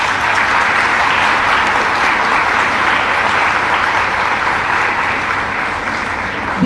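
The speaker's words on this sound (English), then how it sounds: "Let's give the Honorable Minister a loud round of applause." A large audience at a women's college seminar gives a minister a loud, steady round of applause, dense and continuous throughout without a break.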